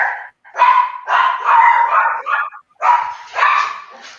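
A dog barking in a room during a seminar, several loud close barks and yips in quick irregular bursts with short gaps between them, heard on its own with no voices.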